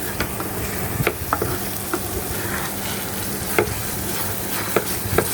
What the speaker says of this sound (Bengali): ভালো করে নাড়তে থাকবেন